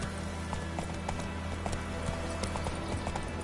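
Roach, a horse in the Witcher 3 Wild Hunt video game, gallops with steady, rhythmic hoof clops over a constant ambient bed, with light rain-like patter.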